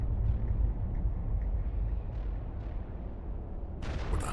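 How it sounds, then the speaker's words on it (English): Explosion in the video game Mass Effect Legendary Edition among Prothean ruins: a continuous deep rumble rolls throughout, then a sharper, brighter blast bursts in near the end, loud and close. "What the hell was that? Explosion."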